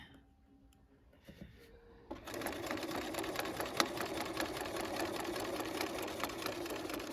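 Sewing machine starting up after quiet handling noises and then stitching fabric at a steady, fairly close, rapid pace for several seconds.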